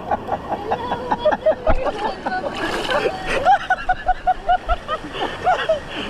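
People jumping into water outdoors, with repeated splashes and sloshing amid excited group chatter and shouting, the splashes fairly near and irregular.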